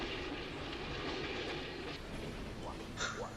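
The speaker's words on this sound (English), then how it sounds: "Gonna get out of the way of the train." A train in the 1971 film A Fistful of Dynamite rumbles past at close range with steady clattering wheels, a faint squeal near the end.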